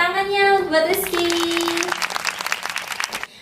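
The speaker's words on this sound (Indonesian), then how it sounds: "tepuk tangannya buat Rizky" A classroom of students claps for a classmate named Rizky after a math lesson on angles. A voice is heard first, then a short spell of scattered clapping that fades out.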